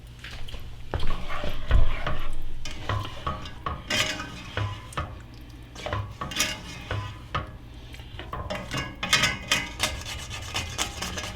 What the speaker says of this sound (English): Scrape off some of the caramelized stuff on it so it gets actually into the chili, gets a flavor.